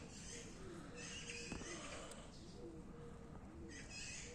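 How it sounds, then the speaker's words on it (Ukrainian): Faint cooing bird calls, cuckoo or pigeons, outdoors in Kharkiv in the early morning, soft repeated calls at a distance under steady ambient noise. "кукушка кукує"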